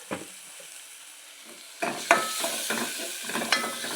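Tomatoes frying in a hot spiced-oil tempering with salt added for dal. The pan is quiet at first, then soft stirring scrapes and a steady close sizzle rise.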